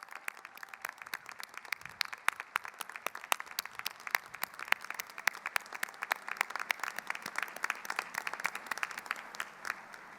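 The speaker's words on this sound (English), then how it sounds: "Give them a big round of applause." A graduation commencement crowd at the College of Charleston applauds steadily for the whole stretch, a dense patter of many hands clapping with sharp individual claps standing out, moderately distant in a large venue.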